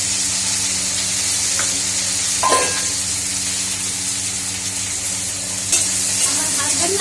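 Food sizzles and fries steadily in oil while being stirred, with a few louder scraping stirs standing out over the continuous close hiss and a low background hum.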